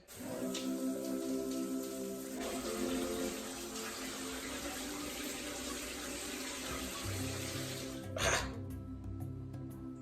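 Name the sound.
pouring hot water for a bath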